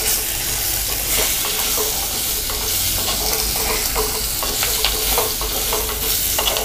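Vegetables such as pumpkin and drumstick sizzle and fry steadily in a pan for moong dal sambar, a continuous close crackle with occasional stirring scrapes and no talking.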